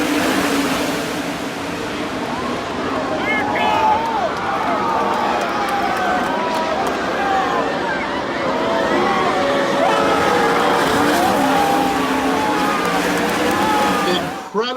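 Winged sprint cars roar through the closing two laps of the 2018 Knoxville Nationals final, several engines rising and falling as they pass, with a loud crowd throughout.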